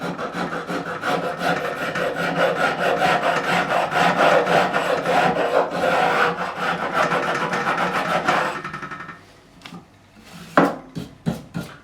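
A number 4 cut file rasps along the binding of a 1957 Hofner President guitar during a refret and overhaul. Steady, close, loud back-and-forth strokes run for about eight seconds, then give way to quieter, sparse scrapes.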